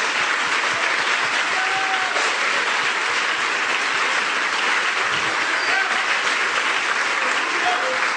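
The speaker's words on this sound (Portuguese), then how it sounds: "E vamos aplaudi-lo por isso" Sustained applause from a church congregation during an Easter Sunday service, dense and steady clapping filling the room for several seconds at a constant loud level, with no voices standing out above it.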